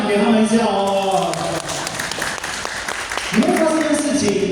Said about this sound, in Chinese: 拍掌给他们一下哦。